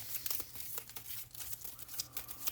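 Mage Knight board game cards being shuffled by hand, a continuous papery crinkling and rustling of flexing card stock close up, with no talking.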